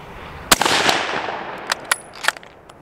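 A single loud rifle shot from a 30-40 Krag Model 1896 cracks sharply outdoors. A few fainter cracks and knocks follow it.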